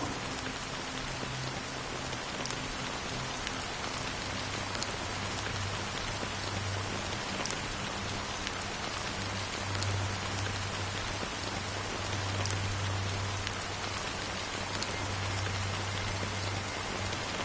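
Steady rain pours throughout a scene in the video game Honkai Star Rail, a dense, even hiss of falling drops, with a low continuous hum underneath and no voices.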